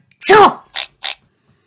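A voice imitates a cartoon piglet's loud sneeze, one big drawn-out achoo followed by two short, softer sneezy bursts, alone with no other talk.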